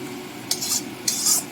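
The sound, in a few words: stirring mustard, poppy seed, onion and tomato paste in pan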